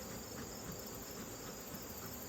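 Bees swarm around an opened, smoked beehive with stacked super boxes, a dense, continuous buzzing drone that stays steady and close for the whole short stretch.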